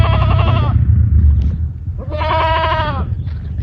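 A dairy goat bleats twice, loud and close, each call long and wavering, with a short pause between them and a low rumble of background noise underneath.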